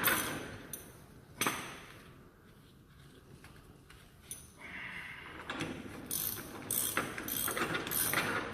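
Ratchet wrench loosening a wheel bearing nut, giving sharp metallic clicks and short ratcheting bursts with brief pauses between strokes, close up in a workshop.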